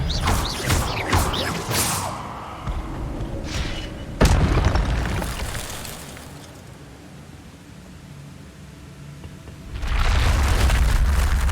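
Spell-casting effect from the Hogwarts Legacy video game on PC: a sharp booming burst with whooshing, preceded by busy magical clatter, then a quieter low rumbling lull before another loud swelling blast.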